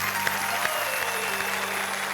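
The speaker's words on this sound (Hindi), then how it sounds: "हम जोरदार तालियों से स्वागत करें।" Audience applause welcoming poet Dr. Wasim Barelvi on the set of a televised poetry show, a steady dense clapping wash that holds at an even level for the whole moment with no voices over it.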